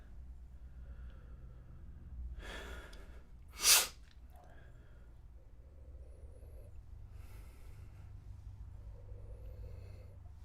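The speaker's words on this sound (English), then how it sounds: "I just can't stop sniffing it." Short sniffs at a glass of rye whiskey held close to the nose, a few breathy inhales with one sharper, louder snort-like sniff in the middle, over a quiet room.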